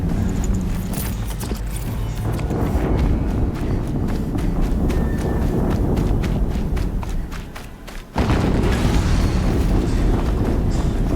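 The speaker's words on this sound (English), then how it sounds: "Another explosion." Explosions go off in the Horizon Zero Dawn action video game, a loud continuous rumble with rapid bursts and a sudden heavy boom near the end, layered over dense game sound.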